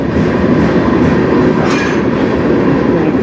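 A fast CN freight train carrying truck frames thunders past up close, a dense continuous roar with faint rhythmic clatter of wheels on rail joints.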